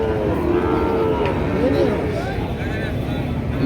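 Sahiwal breed bulls in a Bangladeshi cattle farm or market call out in drawn-out moos, heard over steady background noise and crowd chatter.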